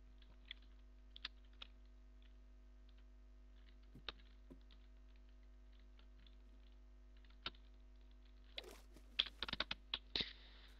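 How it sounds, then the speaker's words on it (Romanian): Keys on a computer keyboard click in scattered single taps during a Minecraft session, then a quicker burst of typing comes near the end. Each click is faint but crisp against quiet background hum. "Ce tastatură genială am. Cred că se și aude."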